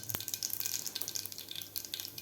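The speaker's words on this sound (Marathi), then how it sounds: "आणि मोहरी व्यवस्थित आपली फुललेली आहे" Mustard seeds splutter in hot oil in a pan, a faint but busy crackle of tiny rapid pops over a low sizzle.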